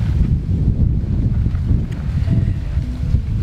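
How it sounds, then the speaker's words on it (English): Wind blows at a lake in Algonquin Park, a steady low roaring rush with microphone buffeting lasting the whole time, no voices. "The wind has changed direction, so wish I could tell you what direction it is."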